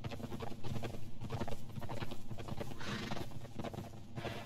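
Hooves clip-clop steadily on a hard surface, a horse walking close by, with some background noise and no talking.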